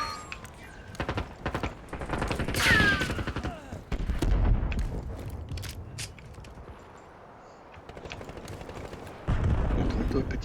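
Rapid XM4 rifle fire in a Call of Duty Black Ops match, loud close bursts mixed with game effects and other shots, while a player speaks over the action.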